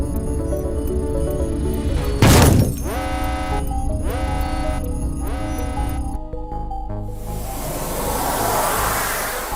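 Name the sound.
spaceship crashing in Morphy Science video game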